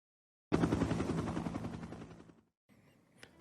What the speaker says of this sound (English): Helicopters and everything.